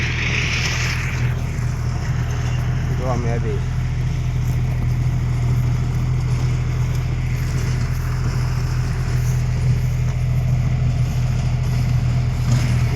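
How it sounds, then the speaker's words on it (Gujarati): A tractor engine runs close by on a rural roadside near a temple, a loud, steady low drone that holds unchanged throughout, with a brief voice heard over it. "ટ્રેક્ટર ચાલુ જ છે"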